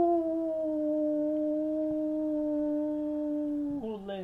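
A single long, steady wolf howl holding one pitch, then breaking downward into a short wavering yelp at the end.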